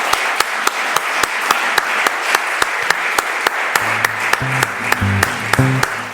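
An audience applauds for guest Ana Carrasco-Conde, a steady, full burst of clapping from many people with a few sharp louder claps, as a soft musical tone enters toward the end.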